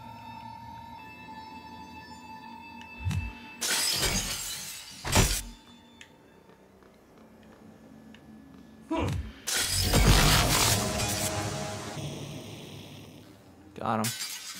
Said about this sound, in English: Yeah, the glass break can just come out.